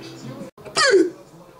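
A single sharp hiccup from a man who has been drinking, loud and close, cutting in right after a brief spoken sound.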